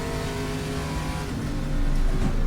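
Engine of a Lola T70 race car in the GTR2 racing game, a short, steady revving whine that swells louder near the end, heard alone.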